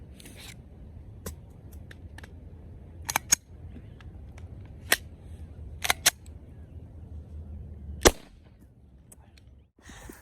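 A custom-painted Glock 17 pistol fires its last round outdoors, heard as several sharp, isolated cracks spaced a second or two apart over a quiet background, with faint voices.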